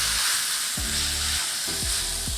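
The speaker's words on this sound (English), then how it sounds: "you're going to put the steak on there like that." A tomahawk ribeye steak sears in a smoking hot pan, giving a loud, steady, close sizzle with a few low thumps and knocks as it settles.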